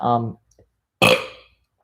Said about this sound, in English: Eggs make me burp sometimes.